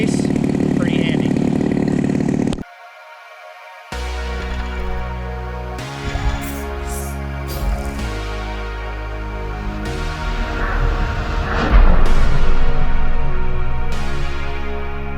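Model airplane glow engine mounted on a Gilmore Red Lion, being broken in: a steady buzzing drone that cuts out briefly, then returns and varies in pitch as the throttle changes, close and loud under occasional talk.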